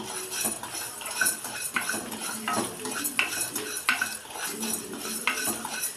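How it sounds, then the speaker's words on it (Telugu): Fenugreek and cumin seeds dry roasting in a pan, a metal spoon scraping and clinking against the pan in quick irregular strokes, close and steady with no talk. "1/2 స్పూన్ మెంతులు, 1/2 స్పూన్ జీలకర్ర వేసుకుందాం. బాగా దోరగా వేయించేసుకుందాం."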